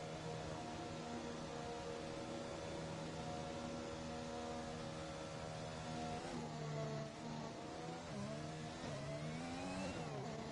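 A race car accelerates away at a Brazilian circuit, its engine note rising and revving loudly and continuously, with pitch sweeps from gear changes toward the end; no talk.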